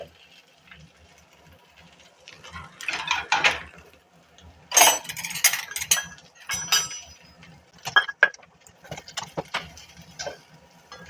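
Cooked prawn heads are scraped into a bowl, giving scattered clinks and scrapes of a utensil against the dish, with a few sharper knocks among quieter ticking contact sounds.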